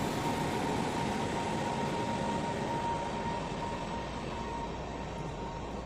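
An Indian Railways WAG-9 locomotive rolls past on the adjacent track, heard from aboard an intercity express: a loud, steady rail rumble and roar with a faint tonal whine, continuous throughout with no voices.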